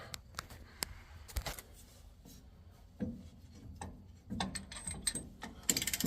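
Ratchet tightening the bolts of a rear axle flip kit on a Dodge D100 truck: close, uneven bursts of clicking pawl strokes with pauses between, quiet in the gaps and louder near the end.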